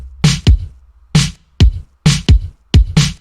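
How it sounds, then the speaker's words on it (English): A synthetic kick and a somewhat acoustic-sounding synth snare, programmed in FL Studio for a synth-pop intro, alternate in a simple repeating pattern of punchy, close, dry hits with no other sounds. "And now for the drums. I just have a simple kick snare rhythm."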